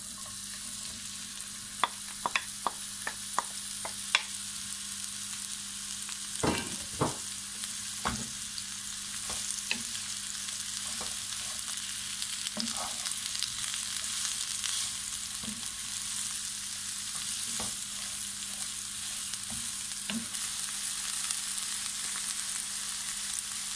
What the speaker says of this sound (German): Und dann brate ich jetzt in demselben Öl die Zwiebeln an.